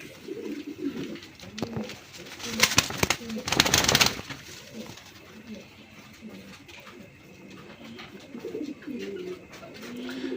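Pigeons of the old Rasgolla breed, including a male, coo repeatedly at close range in a loft setting, with a burst of louder wing flutter or rustling partway through and low talk in the background.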